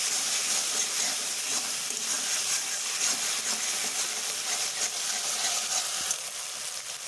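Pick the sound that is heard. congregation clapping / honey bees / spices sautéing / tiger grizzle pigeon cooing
spices sautéing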